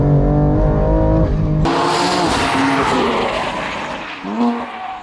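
A BMW M2 on Toyota R888R tyres accelerates hard in third gear: a loud, close engine note that rises steadily, then bursts into a broad, roaring rush as the throttle opens fully, easing slightly near the end.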